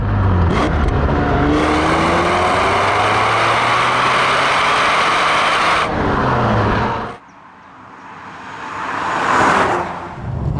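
Ferrari 456 GT engine accelerating hard after a downshift, loud and close, with a steadily rising pitch over several seconds before it cuts to a quieter, muffled engine tone.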